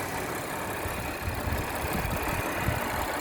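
An Audi A4 B5 engine idles quietly and steadily at close range, a smooth low rumble with no one speaking over it.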